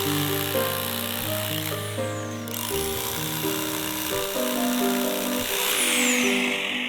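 A power drill boring into a big concrete block, a loud continuous whine shifting in pitch as it bites and strains, with no pauses.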